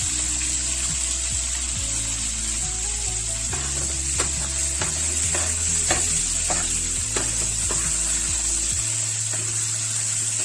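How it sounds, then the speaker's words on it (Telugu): Salt fish pieces fry in a pan with a steady close sizzle, and a few sharp clinks and scrapes from stirring break in over the hiss. "చాప ముక్కలు కూడా వేసేసుకుని వేయించేసుకున్నామండి"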